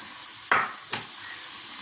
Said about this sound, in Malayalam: എണ്ണ തിളച്ചിട്ടുണ്ട്. ഇനി അതിലേക്ക് ഇട്ട് കൊടുക്കാം.